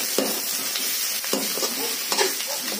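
Grated ginger and garlic being stirred into hot frying oil for an eggplant dish, with steady sizzling and a few scraping spoon strokes, close and alone without talk.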